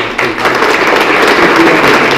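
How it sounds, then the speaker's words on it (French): Loud, dense audience applause at the 2018 opening event of the flour mill in La Mure-Argens, a continuous wash of clapping from start to finish. "Mais je vous demande d'ores et déjà d'applaudir"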